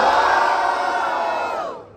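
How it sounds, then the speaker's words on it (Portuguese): A rap battle crowd roars and cheers loudly in a sustained burst of voting noise that fades out toward the end. "barulho pra quem gostou das rimas de Black J!"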